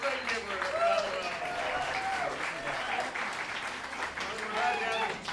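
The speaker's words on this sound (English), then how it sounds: "And now let's give a round of applause for Isaiah." Audience applause at an improv duo championship, sustained clapping and cheering from a live crowd with a host's voice running over it throughout.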